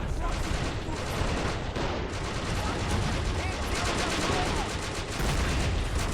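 Sustained gunfire and explosive hits on an anti-tank gun during a 1942 Stalingrad battle in the video game Men of War: Assault Squad 2, a dense, continuous roar of shooting for the whole stretch.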